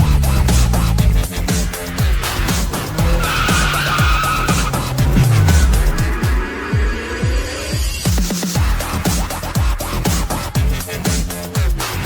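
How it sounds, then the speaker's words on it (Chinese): A Geely car drifting autonomously with no driver, tires skidding and squealing loudly over a roaring engine, continuous and close for the whole stretch. "吉利汽车无人驾驶漂移。"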